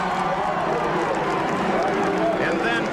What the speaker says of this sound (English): You can hear the people cheering him right now.